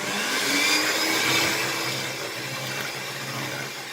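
An electric mixer on low speed whisks milk, yogurt and oil into pancake batter, giving a steady, close motor whir with a broad hiss that holds evenly throughout, with no talking.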